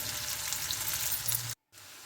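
Onions sizzle and fry steadily in hot oil for chicken biryani, a dense close crackle with brief stirring, cut by a short gap before the frying resumes.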